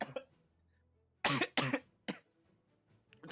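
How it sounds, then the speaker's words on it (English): Several harsh coughs come in quick succession, loud and close, with a fainter cough before them and another at the end, with no talking. "That's a genuine cough."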